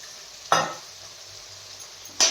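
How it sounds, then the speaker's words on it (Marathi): A spoon stirs vegetables and spring onion in a sizzling pan, giving two distinct scraping strokes about two seconds apart over a soft, steady frying hiss. "छान असं हलवून घ्यायचं आहे"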